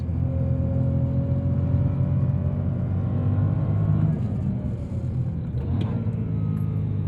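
A 2011 BMW M3 E92 Competition engine rumbles under throttle, a steady deep drone heard from inside the car with a slight rise in pitch, continuous and fairly loud.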